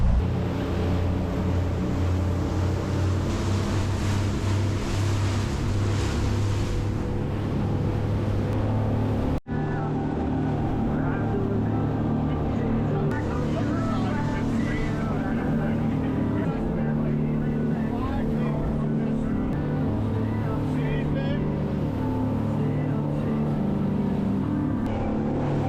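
A 34 CV fishing boat motoring through rough, bumpy seas off the Florida Keys, with a steady engine drone and wind and water rush throughout, one brief drop midway, and someone talking over it.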